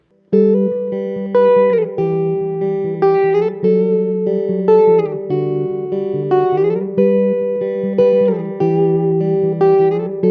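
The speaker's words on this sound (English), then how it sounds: "Third effect is reverb." A clean electric guitar plays a flowing melody through a Vox AC2 RhythmVox mini amp, the notes washed in reverb and ringing into one another, loud and continuous.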